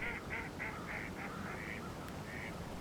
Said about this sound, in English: these ducks were enjoying the open water on the Little Bow River below Travers Dam